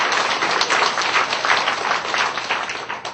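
A church congregation gives a warm round of applause, dense hand claps swelling and easing over about three seconds, fairly close and with no talk over it.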